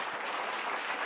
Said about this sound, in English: let's give a big round of applause for Chip Conley.